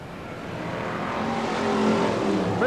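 BriSCA Formula 1 stock cars race at Skegness, their engines roaring loud and close in a sustained, rising drone that swells toward the end with a pass.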